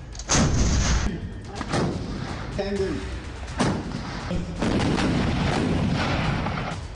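Several heavy booming blasts of M777 light howitzer artillery fire, spaced a second or two apart, each with a rolling echo and sustained rumble between shots.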